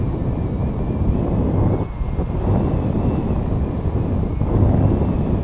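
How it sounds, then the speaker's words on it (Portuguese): Steady outdoor wind buffeting a microphone, a loud low rumble that runs continuously and dips briefly midway, with no voices. "Normal esse vento"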